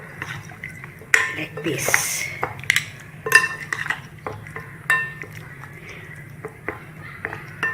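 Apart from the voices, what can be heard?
mixing chicken with masala and cornflour in a bowl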